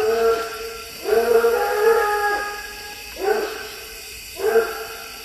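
A hunting dog on a raccoon hunt bays in three drawn-out, howling barks spaced a second or two apart, fairly close and clear at night.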